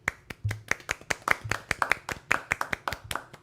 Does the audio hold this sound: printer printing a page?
no